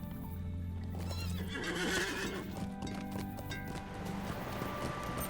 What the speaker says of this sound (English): Let's hop on our horse.